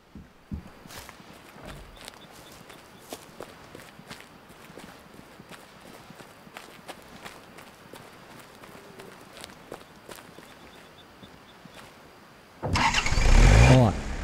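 An open-top car engine in the hunting game Way of the Hunter bursts into life near the very end, loud and close, after a long stretch of quiet footsteps and faint outdoor ambience, then keeps running steadily.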